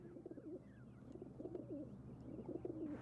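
Low, repeated cooing of a caged pigeon, soft and rolling in several phrases, over a quiet steady hum with faint higher chirps.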